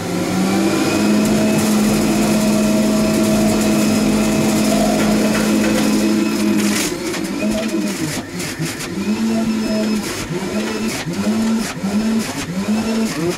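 An electric screw-type juicer motor runs close and loud, first with a steady whining hum, then with a rhythmic, pulsing churn as the auger works.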